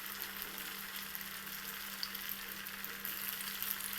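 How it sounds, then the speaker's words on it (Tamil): Vada frying in hot oil, a steady soft bubbling sizzle heard close up and alone, with a faint low hum beneath it. "இப்போ வடையை எண்ணெயில் போட்டு ஃப்ரை பண்ணி எடுக்கலாம்"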